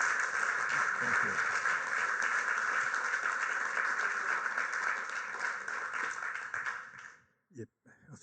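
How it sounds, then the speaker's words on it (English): A lecture audience gives sustained applause for Professor Stephen Hicks, a broad, even wash of clapping that runs for several seconds, then cuts off and leaves a few faint stray sounds. "Can we please have a round of applause for Professor Stephen Hicks?"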